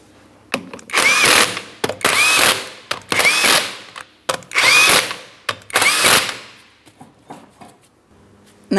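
A power tool runs the 19mm lug nuts onto a rear wheel of a 2003-2007 Cadillac CTS, giving five loud, close bursts of whirring and ratcheting separated by short pauses.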